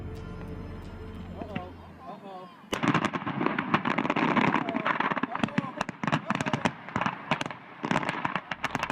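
Firework shells explode at ground level near spectators at a fireworks show, a rapid barrage of loud, sharp explosions and crackling bursts erupting after a quieter moment, continuing in dense, uneven volleys.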